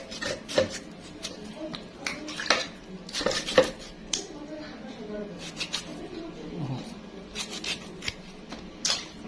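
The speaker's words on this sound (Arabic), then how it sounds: "هقطع كميه ليمون على بعضها اهي" A knife taps and clicks irregularly against a cutting board as lemons are sliced for olive pickle, with a voice speaking softly in the background.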